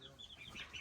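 Brooding hens in a farm pen give soft, faint clucks in a short, uneven burst, heard quietly and close with no speech.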